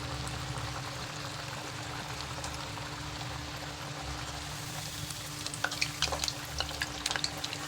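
Crisp cabbage vadi frying in oil over a low flame, a soft steady bubbling sizzle with faint crackles and light utensil ticks toward the end.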